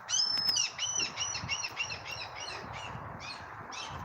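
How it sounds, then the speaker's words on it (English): Crows caw in a rapid series of harsh, loud calls near a disused railway line, with other birds chirping faintly behind them and the calls easing off into quieter outdoor ambience. "See, I love hearing the birds."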